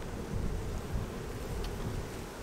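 Honeybees in a long hive buzz steadily during an inspection, a dense low droning hum that fills the whole stretch with slight swells, close to the microphone and with no voices.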